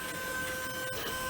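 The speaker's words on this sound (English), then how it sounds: "You can sort of see here the printer as it's working." A 3D printer works with filament, its motors giving a steady whirring and high whine with shifting tones as the axes move back and forth, heard close and alone.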